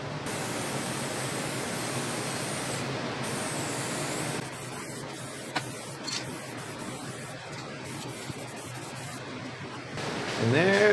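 Steady hiss of an aerosol spray applying a second coat of Helmsman spar urethane satin finish to flip-flop hanging hooks, continuous for several seconds and then softer, close by, with a louder burst of noise at the end.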